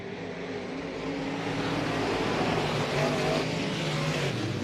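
Dirt track race cars roar side by side down the backstretch at Southern Oregon Speedway, a dense, loud, sustained engine drone with no break.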